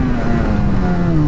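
A car engine runs loud and close as the driver shifts through the gears on a fast cross-town drive. Its droning pitch slides gradually lower over the short stretch, with no talking.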